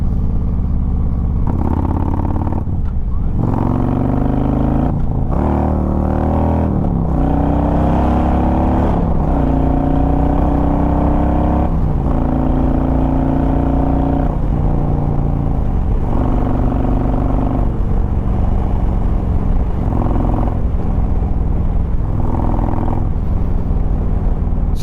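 A modified Harley motorcycle engine in a loud anarchy mode revs hard in repeated bursts, rising and falling with throttle blips and gear changes, close and raw, with a rough clattering exhaust and no talking.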